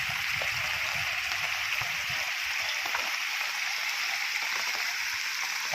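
Floodwater rushes over a road after heavy rain, a steady, dense roar of water that runs unbroken from start to finish with no voices.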